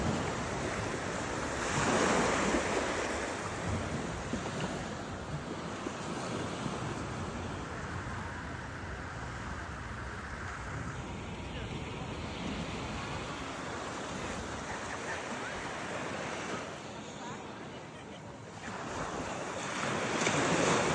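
Ocean waves wash onto the beach at Lido di Jesolo in a continuous broad surf roar, with gusts of wind buffeting the microphone and no talk over the steady wash.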